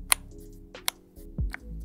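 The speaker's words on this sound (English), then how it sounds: "let's put keycaps on them" Keycaps are pressed onto lubed mechanical keyboard switches, giving a few sharp, close plastic clicks and snaps scattered through a quiet moment.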